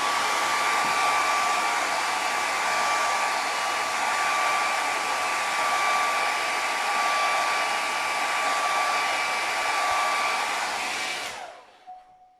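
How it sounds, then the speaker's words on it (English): A hair dryer blows steadily and loudly at close range to dry watercolour paint, holding one even whoosh with a faint tonal whine before switching off and spinning down near the end. "So I'm now just going to dry that off, but I just want the bottom bit of that to dry."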